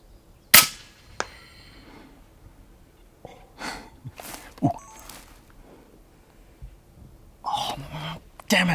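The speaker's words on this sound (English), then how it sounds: "So we're going to try to take a shot from here." A rifle shot fired at a hyrax about 100 meters away among rocks during a hunt, one sharp close crack followed by a smaller report, then quiet rustling, breathing and a voice speaking.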